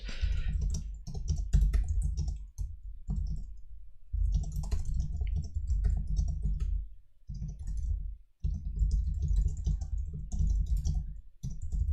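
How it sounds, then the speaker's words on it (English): Typing on a computer keyboard, close and clear, with rapid bursts of clicking keystrokes broken by short pauses, fairly quiet and with no talking. "just typing to myself here."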